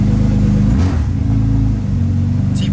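BMW E36 six-cylinder engine revving under throttle, a loud steady mid-pitched drone that rises and settles across the short stretch, close by with no talking.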